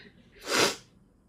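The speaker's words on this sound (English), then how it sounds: "So sorry for the sniffles, you guys." A single short, breathy nasal burst, close by and fairly soft, rising and fading within about half a second against quiet background.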